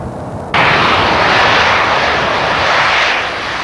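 A Panavia Tornado multi-role jet at an aerodrome roars in suddenly after a short quiet lead-in, then holds a loud, broad, steady engine rush that fades slightly at the end.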